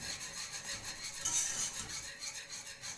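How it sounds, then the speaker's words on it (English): A whisk scrapes and stirs white cheddar and Parmesan into a sauce in a pot, giving a steady, quiet rubbing and metallic swishing rhythm heard up close with no talking. "keep cooking it and whisking until you don't see any more lumps"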